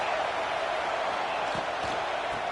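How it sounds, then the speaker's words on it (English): Crowd noise at a Dallas Cowboys American football game, a broad, steady roar filling the stadium, with a few dull low thumps near the end. "This crowd trying to make life miserable for this offense."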